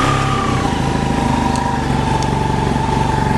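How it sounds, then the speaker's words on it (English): BMW F800GS motorcycle engine running at a steady idle just after starting, a close, continuous low mechanical rumble with an even, unchanging tone throughout. "We'll start the engine."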